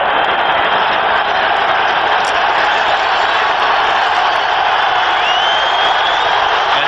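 Dense, steady roar of a large football crowd at Texas Stadium during a 1992 NFL game between the Los Angeles Rams and Dallas Cowboys, loud and unbroken throughout with no pauses.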